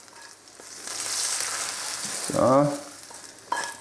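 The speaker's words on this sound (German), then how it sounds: "Die Butter dann ganz leicht braun werden lassen." Tafelspitz beef frying in lightly browning butter in a pan, a soft sizzle that swells and fades, with a brief stirring clatter and a short spoken word.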